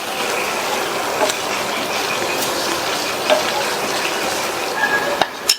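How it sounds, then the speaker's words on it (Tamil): Boiled baby potatoes are stirred into a masala in a pan, giving a steady frying sizzle with occasional scraping clicks of the spoon, close and continuous. "சேர்த்துட்டு இந்த மசாலாவில் நல்லா மிக்ஸ் பண்ணிடுங்க."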